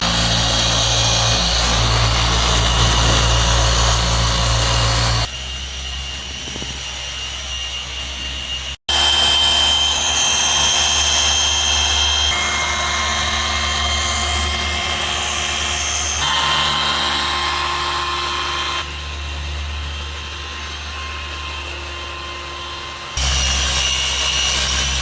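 A handheld machine polisher runs a cutting pad across a car's clear coat to remove heavy scratches, a loud steady motor whine that holds for long stretches, with a drop partway through, a brief cut-out near nine seconds and a few shifts in pitch.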